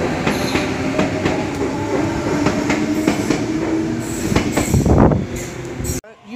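A Sydney Trains passenger train passes at Sydenham station, loud and close, its wheels clacking rhythmically over rail joints with a rising rush before the sound cuts out abruptly at the end.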